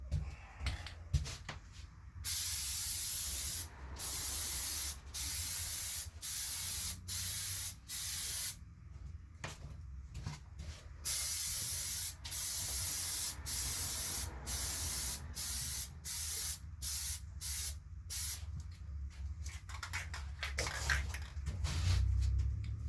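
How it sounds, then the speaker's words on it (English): Plasti Dip aerosol can spraying white coating onto a half helmet, heard as loud close bursts of hissing spray, several long steady passes broken by short gaps and quick taps of the nozzle. "I always test the nozzle on a piece of cardboard before I spray it on the panel"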